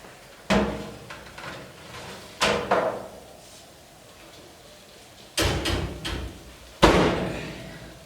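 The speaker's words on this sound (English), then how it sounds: "I'm gonna pull this stuff out of the oven." Oven door of a La Nordica wood-burning cookstove being opened and handled while baked goods are taken out, four loud close metallic clunks and thuds spaced apart with quiet handling between.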